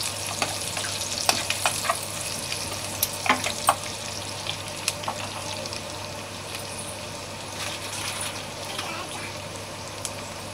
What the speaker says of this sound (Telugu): ఇది కొంచెం బాగా బ్రౌనిష్ గా వచ్చేలాగా వేపుకున్నాము దీంట్లోనే ఎగ్స్ కూడా వేసుకున్నాము